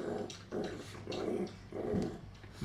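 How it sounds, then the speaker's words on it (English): Two dogs scuffling as one humps the other, with rhythmic panting and low growly snorts repeating about every half second, close by. "And Coco decides to hump Lulu"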